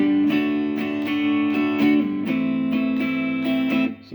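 An acoustic guitar strums the intro chord rhythm of a song in a steady, even pattern of down and up strokes, close and clear with no voice over it.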